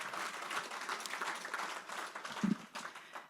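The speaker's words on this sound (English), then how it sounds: "Give him a round of applause, everyone." An audience at the New Jersey Golf Hall of Fame ceremony gives a honoree a round of applause, a soft, somewhat distant patter of many hands that holds steady for a few seconds.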